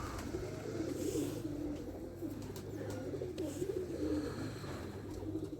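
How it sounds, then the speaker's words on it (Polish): Racing pigeons coo on a loft landing board in a low, continuous, overlapping murmur, fairly close, with faint outdoor background. "jak zobaczyłem na desce te dwa gołębie"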